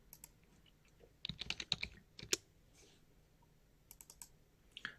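Typing on a computer keyboard while working in ArcoLinux, with scattered soft keystrokes building into a quick cluster of sharper clicks mid-clip, then a few isolated taps, fairly quiet and close.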